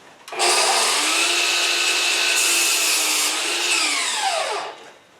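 Miter saw slicing through a wooden roof rafter, one loud continuous cut with a steady whine that rises sharply, holds for about four seconds, then spins down.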